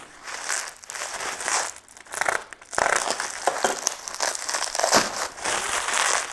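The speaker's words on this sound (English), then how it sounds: "Just going to cut the tape." Tape is cut and bubble wrap crinkled while a sword package is opened, close, loud bursts of crackling and rustling plastic coming in uneven waves with brief quieter gaps.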